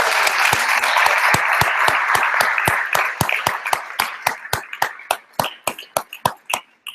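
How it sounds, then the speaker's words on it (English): An audience at an AppShareLive event in Dubai applauds for Kathy. Thick clapping thins out until only a few separate, sharp hand claps remain, spaced unevenly and fading toward the end. "Can I have a round of applause,"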